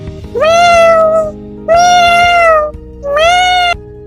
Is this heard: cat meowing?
yes